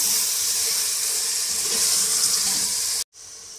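Chicken pieces fry in a hot pan with a loud, continuous hiss and sizzle, sounding close and steady. It cuts off abruptly near the end and then resumes more quietly.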